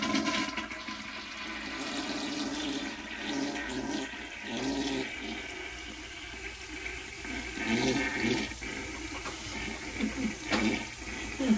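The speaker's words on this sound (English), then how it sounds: "And now let's go ahead and flush and see what happens." A toilet flushing after Diet Coke and Mentos were poured in, a long loud rushing and gurgling of water swirling and draining, surging in waves over about eleven seconds, with no voices.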